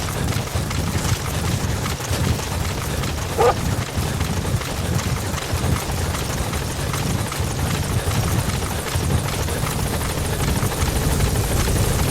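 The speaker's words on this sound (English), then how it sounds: "Support helicopter has arrived." A support helicopter from Metal Gear Solid V settles at the landing zone, its rotor thumping in a loud, steady low churn with a whining engine layer, continuous for the whole stretch.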